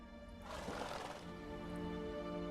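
Roach, a horse in The Witcher 3, gives a single neigh in the first half, a rising burst over a steady hum of ambience, then fades back to quiet background.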